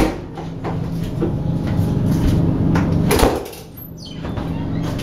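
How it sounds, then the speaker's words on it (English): Bathroom doors on a Cairo to Aswan passenger train open and shut repeatedly, with one loud bang near the middle, over a steady rumble of the moving train. "Sorry for all the door sounds."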